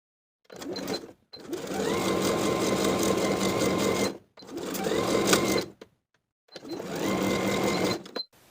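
A sewing machine runs a straight seam with backstitching on a summer beach cover-up, close and steady in several whirring runs of varying length split by brief stops.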